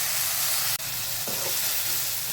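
Moth beans (matki) saute in a pan with a steady, loud sizzling hiss, broken by a brief dropout and a soft clack as the beans are stirred, no voices.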